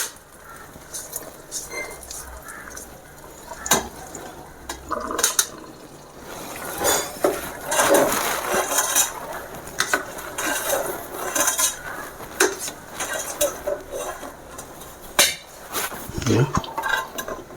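Sweet pongal with ghee, cashews and raisins is stirred in a pan, a series of close metal spoon scrapes and clinks against the vessel, irregular and busy, with faint frying underneath.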